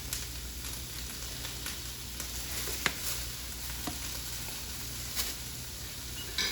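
Onions and sausage sizzle and fry in a hot pan while being flipped, a steady crackling hiss with a few sharp clicks and taps from the turning.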